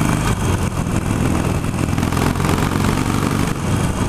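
A Harley-Davidson Sportster 883 motorcycle engine running loud and steady, a dense, rough rumble with wind noise, heard close and continuous with no talk.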